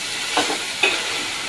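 Rohu fish head fries in a pan with a steady sizzle, broken by two brief scraping stirs of a spatula, close and fairly loud, with no talking.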